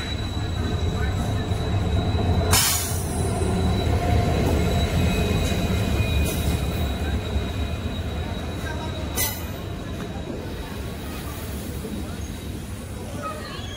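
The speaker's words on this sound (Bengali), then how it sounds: "আমরা শিলচর আগরতলা যে এক্সপ্রেস ট্রেন আইব, এই ট্রেনটাই আমরা যাইমু" Silchar–Agartala express train rolling past with a loud, steady rumble, high metallic wheel squeals and a couple of sharp clanks along the way.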